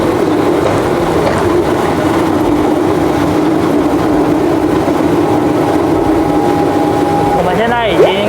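Motorized rail cart setting off along an old mountain railway line in Miaoli, its steady engine rumble continuous and close with wind noise, a brief whistling tone and squeal near the end.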